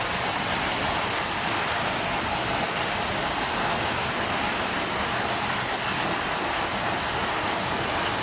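A waterfall at the Devil's Grotto in Huelgoat, visited at night, gives a steady, even rushing roar that fills the whole stretch without a break and with no voices over it.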